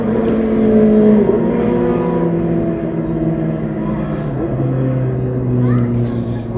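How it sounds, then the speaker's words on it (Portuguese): A car passes by outside, a steady engine drone with a slowly shifting pitch that stays fairly loud throughout, heard behind a Portuguese reading with a voice speaking over it. "Só um instante de passar aqui esse barulho aí do carro."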